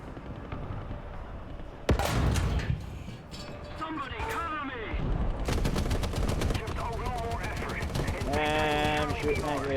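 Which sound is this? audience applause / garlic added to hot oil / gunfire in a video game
gunfire in a video game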